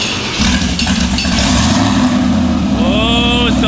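A turbocharged car with a new converter fires up and revs loudly nearby, a low rumble climbing into rising and falling revs with whistling turbo spool, while people talk over it.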